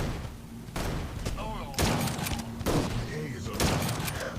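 Gunfire in the shooter game Guns of Boom comes in bursts of rapid shots and thuds, loud and close, with a player's voice talking over the action between volleys.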